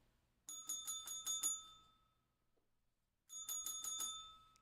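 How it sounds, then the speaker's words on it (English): A bright bicycle-style bell rings in two quick bursts of rapid strikes, clear and close, with a short pause between them and no talk over it, played as a stream sound effect. "Jake, by the way, bells and Baby Yodas for you"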